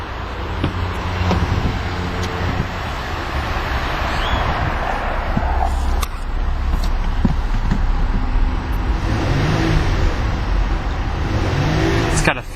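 A 2011 Lincoln MKT EcoBoost's V6 engine idles and revs steadily, a low continuous rumble close by, with a few faint clicks and brief talking partway through.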